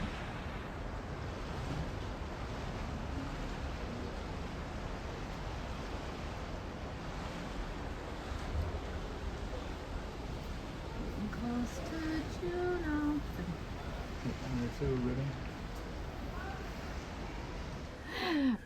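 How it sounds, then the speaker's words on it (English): A steady, roaring rush of falling water from a large waterfall seen from a ship near Juneau, Alaska, broad and continuous with wind buffeting the microphone and faint voices mixed in. "Ripping waterfall coming all the way down."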